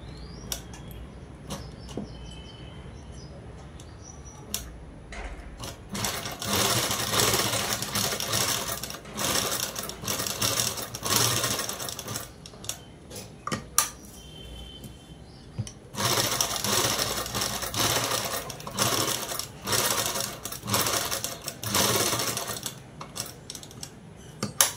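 An electric sewing machine stitches a blouse in two long runs of fast, steady whirring and needle clatter, separated by quieter stretches of handling clicks and fabric shuffling.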